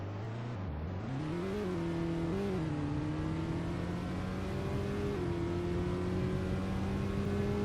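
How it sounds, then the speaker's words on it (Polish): A modified BMW 330i F30 engine in a Roblox car game revs and accelerates hard, its droning pitch dipping at a gear change and then climbing steadily, loud and continuous with no talk. "Brzmi to trochę jak taki zmodyfikowany dźwięk BMW 330i, tego F30, co tam jest."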